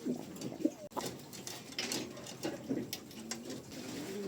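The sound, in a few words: pigeon cooing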